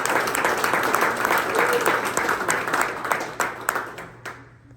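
A crowd of supporters at a political speech event claps and cheers in a dense, sustained round of applause that tapers off and stops near the end.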